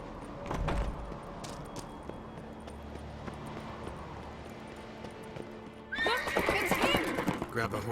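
Horse neighing and clip-clopping hooves in the video game The Witcher 3, a whinny near the start, steady hoofbeats, then a louder whinny toward the end, with character dialogue over the top.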